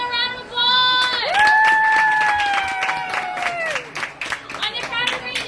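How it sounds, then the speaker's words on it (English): In a Texas Roadhouse restaurant, a crowd claps and cheers briefly under a long, loud sustained vocal tone, probably a shout or song, with clapping rising toward the end. "Let's give him a round of applause."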